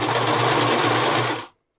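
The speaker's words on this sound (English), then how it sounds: "I'm using my cover stitch machine" A cover stitch machine hems stretch fabric fast and steady at close range for about a second and a half, a dense mechanical whir, then stops abruptly into silence.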